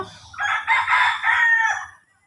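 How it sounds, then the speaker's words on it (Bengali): A rooster crows loud and close beside a road through a tea garden, one long drawn-out call of about two seconds with a rising and falling shape, heard alone without talk. "এই দেখো মুরগিরও ডাকা শুনো"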